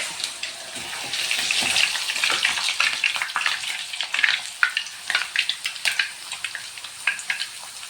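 Thinly sliced tuber chips frying in a shallow pool of oil, a steady close crackling sizzle with sharper pops and bubbling bursts, no voices.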